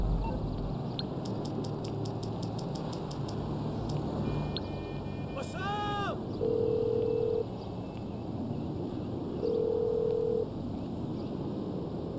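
A phone in the GTA video game on PS5 dials a call to Marty, with a quick run of dialing beeps, a rising electronic chirp, then two long steady ringback tones over a constant game background hum.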